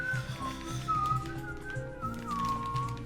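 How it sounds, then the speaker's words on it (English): A person whistles a wandering, sustained melody throughout, steady and fairly close, over low background music during a slots session. "I was whistling at the time."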